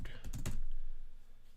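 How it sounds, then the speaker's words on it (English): Keystrokes on a computer keyboard, a quick burst of clicks in the first half second then trailing off to quiet room tone. "Don't judge me on how fast I could type."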